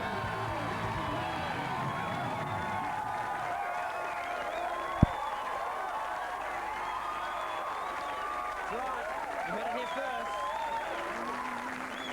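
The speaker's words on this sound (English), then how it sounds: "what an excitable crowd we're having tonight" A studio audience at a live Australian television talk show applauds and cheers continuously throughout, a dense, steady wash of clapping with excited voices rising over it, a single sharp thump midway.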